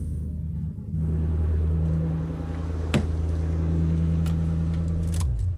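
A V8 car engine runs rough and misfires on one cylinder from a gas leak, idling as a steady low uneven rumble with a sharp tick near the middle, close and fairly loud, before it cuts off at the end.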